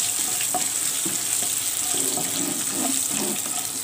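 Chana dal and dried chillies roasting in a pan over low heat give a steady, close crackling hiss, broken by soft scraping and rattling as the lentils are stirred around, with no voices.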